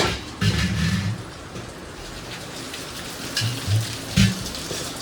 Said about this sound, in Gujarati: પવન ને વરસાદ તરા તડી બોલે છે